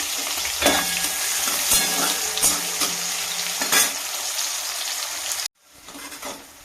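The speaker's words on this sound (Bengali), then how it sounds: "পেঁয়াজটা একটু ভাজা ভাজা করে নেব।" Chopped onions fry and get stirred in a pan, a loud close sizzling hiss punctuated by scraping strokes, then falling quieter near the end.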